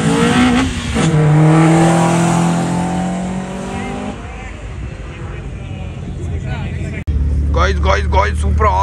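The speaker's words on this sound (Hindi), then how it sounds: "ये कौन सी गाड़ी आ रही है? सिविक अगेन, अकोर्ड है" A Honda Civic or Accord races around an autocross track in Karachi, its engine droning loudly and shifting pitch as it passes, with a sharper burst near the end, while people talk excitedly over it throughout.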